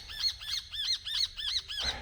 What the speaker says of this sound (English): There's some sparrows back there that have just flown in.